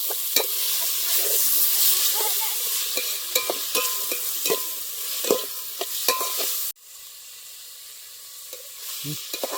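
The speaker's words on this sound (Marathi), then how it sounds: "कांदा आणि टोमॅटो ते जरा आपण फोडणी देऊन घेऊ" Onion and tomato fry in a hot tempering in a pan for a mutton dish, giving a steady close sizzle broken by sharp spatula scrapes and clicks, then the frying drops abruptly to a quieter hiss near the end.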